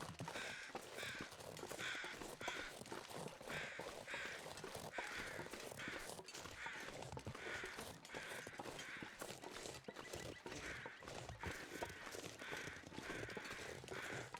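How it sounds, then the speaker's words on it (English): Crows caw repeatedly in the STALKER video game, harsh calls recurring at a steady pace over a continuous outdoor ambience, with fainter animal sounds mixed in. "Thank you, crows. They're always complaining about you."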